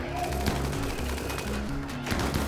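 Rimworld gunfire, including a machine gun, rattles in rapid bursts of shots at moderate volume, with faint talk underneath.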